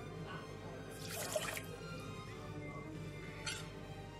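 Water poured into a cooking pot with the ingredients for Aleppo-style cotton candy, brief soft splashing bursts and drips, fairly faint and close, with no talking.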